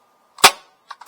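One sharp CO2 handgun shot fired at a target stand, a crisp loud crack with a short decay, followed by two fainter snaps near the end.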